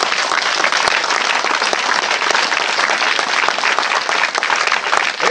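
Church congregation applauding, a dense, loud, sustained roar of clapping hands that stays even and continuous from start to finish.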